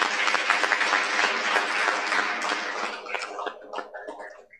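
A church congregation claps together in sustained applause during a First Holy Communion service, the clapping dense at first and then thinning into scattered claps as it dies away.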